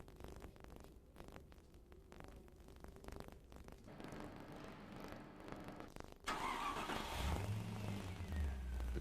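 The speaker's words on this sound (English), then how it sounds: "replace the cap and run the engine for a short while" A 1993 MG RV8 sits with a quiet mechanical background before its engine starts and settles into a steady, louder low idle running for the last few seconds.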